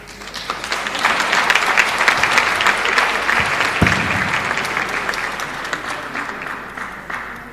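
Conference audience at a closing session breaks into sustained applause, a dense steady wash of clapping lasting several seconds at even, fairly loud level.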